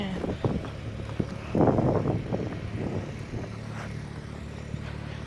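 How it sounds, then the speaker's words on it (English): Wind buffets the microphone in gusty low rumbles, strongest in a burst early on, over a steady background hum. "it's getting a little windy now. It's getting windy, it's picking up."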